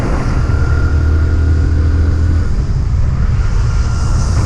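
A Hero Splendor Plus BS6 motorcycle engine runs continuously on the road, giving a loud, steady low drone with a broad wash of wind noise throughout.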